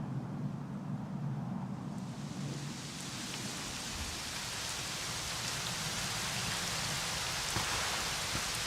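Steady rain pours down in the video game Dragon Quest XI, a dense hiss that swells and thickens after the first moments, with occasional louder drops and no voices.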